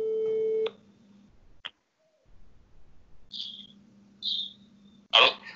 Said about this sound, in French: Est-ce que tu entends le téléphone sonner?